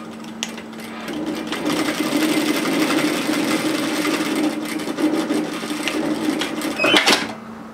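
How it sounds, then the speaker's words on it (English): A sewing machine stitches the short ends of folded robe sleeve bands in one steady run of rapid needle clatter, close and fairly loud, ending with a brief louder clunk and no talking. "we're going to stitch together these short ends at 1 centimetre"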